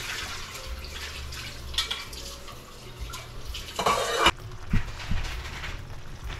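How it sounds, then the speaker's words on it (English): Water running from a kitchen tap into a sink while pans and dishes are washed, a steady splashing flow with occasional clinks and a louder burst near the middle. "I will start to clean up the pans and dishes in the sink."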